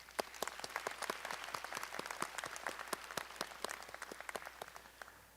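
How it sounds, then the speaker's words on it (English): Audience applause at a university commencement ceremony, a dense steady patter of many hands clapping together for several seconds, moderately distant, with no voices over it. "Let's give them a big round of applause too."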